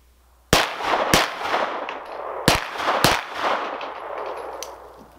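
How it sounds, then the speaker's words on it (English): Springfield 9mm Ronin 1911 pistol fired at a silhouette target on an outdoor range: four sharp, loud shots in two quick pairs, each followed by a ringing metallic clang and echo. "We're going to take 2 shots at the silhouette target on the 7-yard line"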